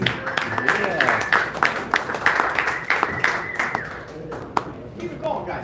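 Audience at a live standup comedy show in Toronto applauds steadily, dense clapping with cheers and shouts from the crowd, fairly close and sustained, with a few sharp individual claps standing out.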